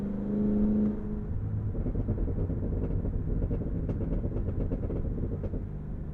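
Cadillac Escalade V exhaust on overrun, a heavy low rumble that keeps going while scattered crackles and pops fire off above it, close and continuous without letup.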